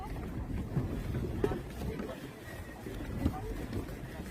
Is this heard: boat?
yes